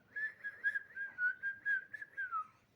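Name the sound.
a boy whistling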